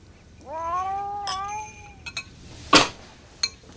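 A cat lets out one long, drawn-out meow close by, followed by a few short clinks and a sharp thump, with no talking.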